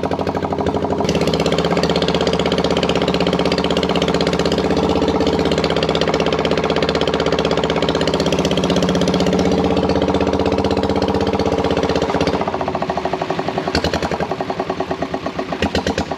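A boat engine drones loud and steady during flood relief work in Feni, a continuous rough mechanical hum with a faint knock that eases slightly near the end.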